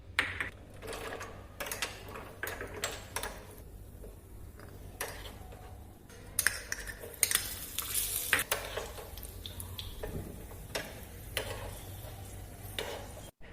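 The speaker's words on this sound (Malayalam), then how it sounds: "ഈ ഒരു പാൻ അടുപ്പത്ത് വെച്ച് അതിലേക്ക് നെയ്യ് ഒഴിച്ച് ഈ കാഷ്യൂനട്ടും അതേപോലെ തന്നെ ഉണക്കമുന്തിരിയും നന്നായിട്ട് വറുത്തെടുക്കണം" Cashew nuts and raisins fry in ghee in a pan, a soft sizzle broken by irregular clicks and scrapes of stirring, quiet and close with no talking.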